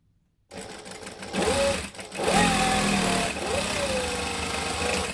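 Home sewing machine running in short bursts as it stitches two pieces of fabric together along the top edge, a steady mechanical whir that pauses and restarts, close and fairly loud.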